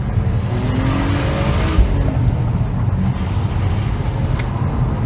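A BMW E46 330ci inline-six hums under load while driving, a steady low engine drone with road and tyre noise filling the cabin, continuous and close, no talk.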